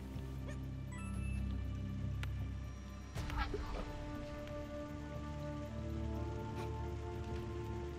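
Rain or a waterfall in the video game Supraland, a steady wash of falling water that runs continuously under game music and effects, with a sharper crash partway through.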